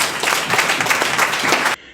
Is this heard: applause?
yes